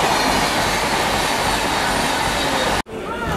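Sealdah–Jalpaiguri Road weekly Humsafar Express rolling in, a loud close continuous rumble of wheels on track with a faint squealing tone, cut off abruptly before quieter ambience resumes.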